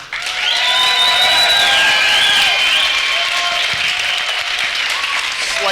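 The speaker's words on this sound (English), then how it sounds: "So by a round of applause, how many of you would agree with Larken?" Debate audience at an anarchist gathering applauds and cheers to vote for Larken, a loud crowd roar of clapping with whistles and shouts rising above it, fairly close and sustained.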